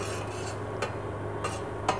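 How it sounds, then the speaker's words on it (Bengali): Milk being stirred steadily in a pot on the boil while it is being made into chhena, with a low constant hum and three soft scraping strokes of a spoon against the pot at a close distance. "অনবরত নাড়তে থাকব।"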